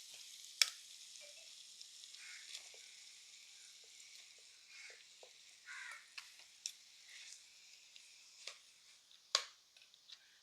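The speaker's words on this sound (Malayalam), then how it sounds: "മസാല പുരട്ടി വെച്ചിരിക്കുന്ന നമ്മുടെ ചിക്കനില്ലേ അതൊന്ന് ഇട്ട് കൊടുക്കാം" Faint, quiet sizzle of marinated chicken going into a hot pan, with a few sharp spattering pops and scrapes scattered over the frying hiss and nobody speaking.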